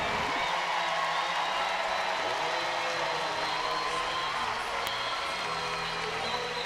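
Spectators at a women's college gymnastics meet between Oregon State and Air Force cheer and applaud in a sustained, dense roar that fills the arena.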